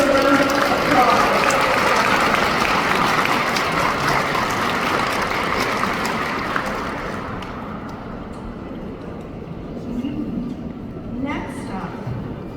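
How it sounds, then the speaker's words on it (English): Sustained applause from a rally crowd for a former chair, a broad roar of clapping that stays loud for several seconds, then gradually fades and thins out as the crowd settles. "please give him a round of applause"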